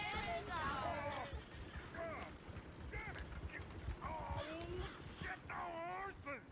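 Horse hooves clip-clop in Red Dead Redemption 2 gameplay, a steady patter beneath near, continuous character voices and shouting throughout.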